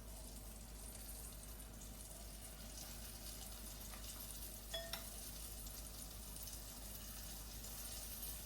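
Four pieces of cod frying in a pan for a buttery recipe: a soft continuous sizzle with faint crackle and low hum, a couple of brief clinks near the middle, quiet and with no talking.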